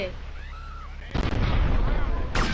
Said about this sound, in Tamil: பிளாஸ்ட் பிளாஸ்ட் சும்மா பிளாஸ்ட்